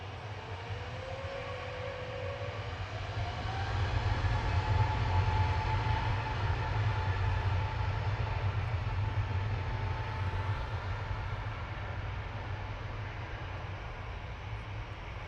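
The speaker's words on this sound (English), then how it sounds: "Jet2 lining up from Tango now with flight 875 to Faro" A Jet2 Airbus A321 lining up on the runway at Manchester Airport, its engines giving a steady distant low rumble and whine that swells slightly midway, with no talking.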